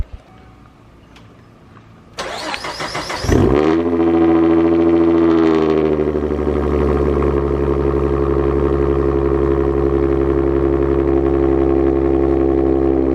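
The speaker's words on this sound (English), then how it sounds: "let's get a cold start with how this thing sounds" A Mustang 3.7 V6, M122-equipped and fitted with long tube headers, cold starts: a brief high starter whine, then the engine catches at once and settles into a loud, steady, droning idle held close, with no talking.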